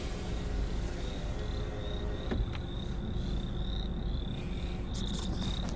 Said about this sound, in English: Crickets, yeah. Did you hear the crickets?